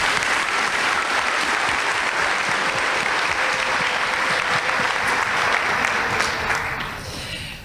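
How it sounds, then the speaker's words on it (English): A sustained round of applause from the crowd at an 8th grade promotion ceremony for the musicians who played the processional, dense steady clapping that fades near the end. "Let's give them a round of applause"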